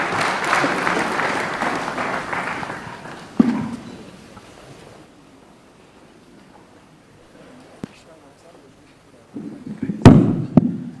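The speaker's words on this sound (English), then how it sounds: "Let's put another round of applause, please, for our panelists" Audience applause for a panel at a Kenyan state function, a broad clapping wash in the first few seconds that fades away, then a quiet stretch and a brief burst near the end.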